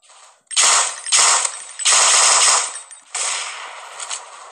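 Sniper rifle shots in the mobile shooter game Mask Gun: three loud, sharp bursts in quick succession, then a longer sustained blast, with no talk over them.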